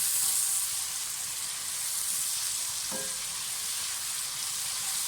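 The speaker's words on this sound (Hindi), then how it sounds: "जिस घी में या ऑयल में आप प्याज फ्राई कर रहे होंगे उसी में आप टमाटर डाल दें" Tomatoes fry with onions in hot ghee or oil, giving a steady, loud, close sizzle with a brief stirring scrape partway through and no voices.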